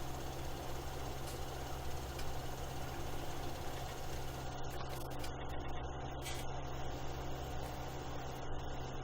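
A tractor engine in Farming Simulator 17 drones steadily at idle or low speed, a constant mid-pitched rumble with faint vibration and no talk over it.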